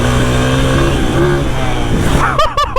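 A motorcycle on dirt tires climbs a hill, its engine revving hard and steady up close, with a few sharp bursts near the end.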